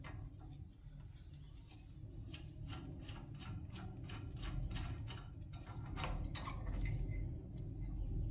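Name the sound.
wrench loosening a bolt on a DR field mower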